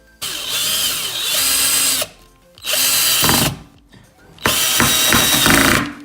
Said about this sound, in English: now it's time to replace them with this, and it's simply screwing them in